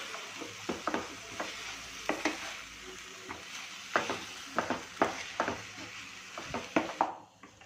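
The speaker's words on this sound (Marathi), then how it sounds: "चवीनुसार मीठ बारीक चिरलेलं कोथिंबीर आणि हे व्यवस्थित मिक्स करून घ्यायचे" Green eggplant bharit, Khandeshi Jalgaon style, being mixed with salt and finely chopped coriander, giving repeated soft scraping and stirring knocks of a spoon against a bowl at an irregular pace, close and fairly quiet, with no one talking.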